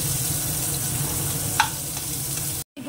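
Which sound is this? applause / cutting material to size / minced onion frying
minced onion frying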